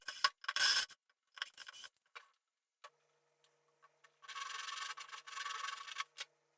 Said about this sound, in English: then just did a real light sanding to make sure everything was smooth